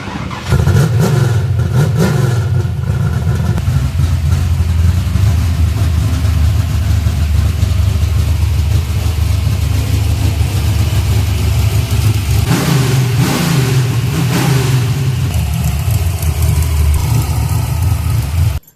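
A turbo diesel engine in a D series build idles with a deep rumble, then revs up briefly a couple of times, loud and close throughout.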